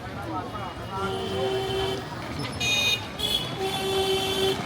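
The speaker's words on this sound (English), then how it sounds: "Listen to the horns blowing." Car horns honk repeatedly amid busy night street noise in Paharganj, Delhi, long tones sounding near and loud over a constant traffic rumble, with voices in the background.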